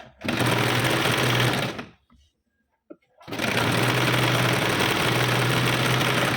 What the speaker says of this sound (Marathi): त्यानंतर आपण साईडचे टक्स पाऊण इंचावर शिवून घेणार आहेत